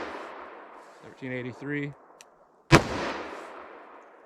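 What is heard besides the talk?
gunshots from .44 Magnum or 10mm Buffalo Bore handgun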